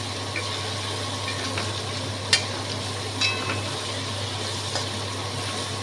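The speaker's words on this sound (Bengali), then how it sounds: "এটার সাথে একটু ভাজা হচ্ছে হ্যাঁ ওই তেলটাতেই কিন্তু ভাজা" Spices fry in oil in a pan with a steady low sizzle and a constant hum, punctuated by a few sharp scraping stirs and clinks.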